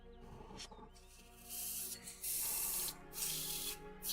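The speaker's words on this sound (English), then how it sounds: "I'm not making the sound. It's the airbrush, of course." An airbrush hisses in repeated bursts of spray as paint is applied to a printed manticore figure, each burst about half a second to a second long with faint rustles between.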